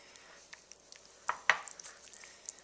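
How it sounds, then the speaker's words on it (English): A utensil stirs melted peanut butter and butter in a bowl, giving soft scraping strokes with a couple of sharper clinks against the bowl, quiet and intermittent with no talking. "You're just going to stir it"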